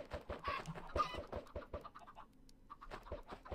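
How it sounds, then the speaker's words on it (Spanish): Chickens in the video game Minecraft cluck in quick, fairly faint bursts with scratchy clicks, busiest in the first half, then thinning out before resuming, with no talking. "A ver cuántas gallinas salen de los huevecitos."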